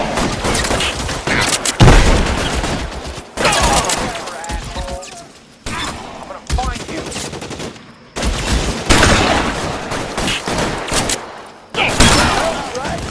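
Dense gunfire from the video game LA Noire Remaster, with loud rapid bursts of shots and booms that come in waves with brief pauses, plus game voices talking under the shooting.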